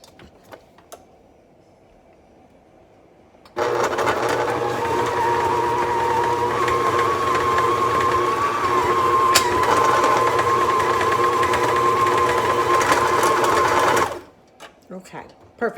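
A stand mixer steadily churns thick cookie dough with pecans mixed in, a constant mechanical whir holding for about ten seconds before stopping, with brief sounds before and after.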